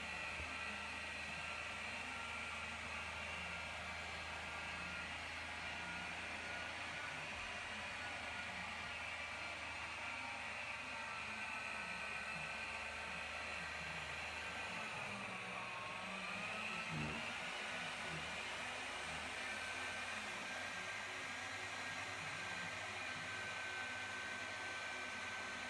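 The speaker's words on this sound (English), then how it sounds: "I'll work it in with the Rotary from there" A rotary polisher works compound into car paint to remove swirls, giving a steady whirring hum at low level with small shifts in pitch as the pad moves.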